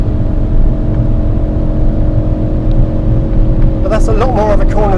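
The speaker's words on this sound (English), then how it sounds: "And I could just get on the power all the way around here, full throttle." Ford Focus RS engine holds steady at full throttle on the Goodwood race track, a loud sustained drone heard from inside the car, with someone talking over it near the end.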